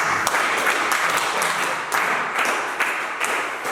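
A church congregation applauds together: loud, dense, continuous clapping with a few louder bursts, filling the room throughout.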